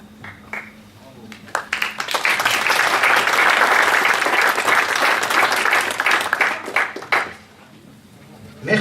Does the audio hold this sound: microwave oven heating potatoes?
no